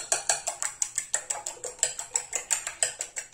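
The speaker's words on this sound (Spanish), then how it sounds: "Y vamos a revolver mucho." Eggs with a pinch of salt beaten briskly in a bowl, a fast, steady run of bright clinks as the utensil strikes the bowl about six times a second, close and clear with no talking.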